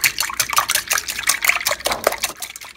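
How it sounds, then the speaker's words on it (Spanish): Five eggs beaten in a large cup make a quick, wet, irregular sloshing and clicking, with close liquid splashes throughout and no talk. "En una taza grande pongo 5 huevos y vamos a menear estos 5 huevos"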